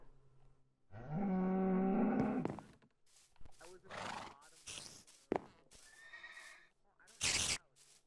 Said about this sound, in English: Jezreal, there's a cow in here!